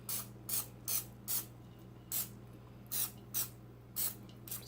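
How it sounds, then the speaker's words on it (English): Canola oil spray hits a popsicle mold in about nine short, sharp hissing bursts spaced roughly half a second apart, close to the mic against a low steady background hum. "Step is to spray your popsicle mold with oil. Something mild like canola oil."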